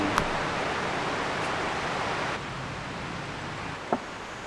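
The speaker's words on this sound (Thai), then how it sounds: "เราเดินเรียบกับ ลำน้ำที่เป็นน้ำตกกันแหละ" Water from a waterfall stream flows steadily beside a forest trail, a constant broad rushing wash with one or two faint clicks on top and no voices.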